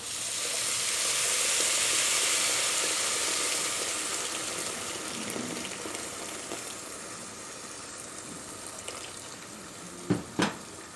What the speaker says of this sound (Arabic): هنزل بقى بالميه بتاعتي المقدار العادي بتاعي اهو